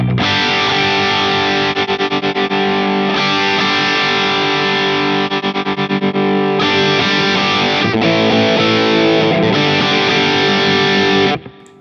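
Distorted electric guitar played through a Two Notes OPUS while its depth control is adjusted, loud and close, with chugging palm-muted riffs and held chords in several bursts and a sharp cutoff at the end.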